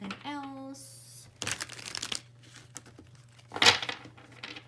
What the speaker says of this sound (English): I am going to just shuffle one more time